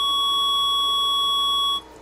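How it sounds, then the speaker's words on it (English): A network cable toner sounds one long, steady, high electronic beep for nearly two seconds, then stops abruptly, leaving faint background hiss. "Four is just one big beep."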